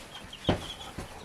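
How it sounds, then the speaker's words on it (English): Baby chicks just acquired for free, making a brief clucking peep mid-clip with a fainter second call near the end, close by over quiet background hiss. "So, baby chicks."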